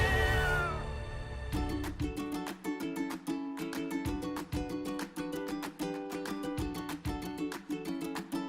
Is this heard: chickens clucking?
no